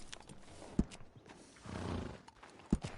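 Horse in the Red Dead video game: two sharp snorts or whinnies a couple of seconds apart, with a softer breathy neigh in between, over quiet game ambience.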